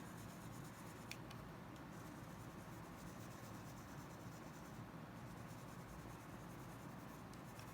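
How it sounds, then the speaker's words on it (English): A pen draws across a wooden surface with faint, continuous scratching against a quiet background hiss. "Now I'm going to draw on top of the wood."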